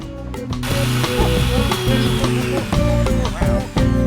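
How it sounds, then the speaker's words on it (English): A ratchet is working loose a bolt on a garage door, giving a loud, close run of rapid metallic clicks with short breaks between strokes. "I've now got to remove this bolt somehow"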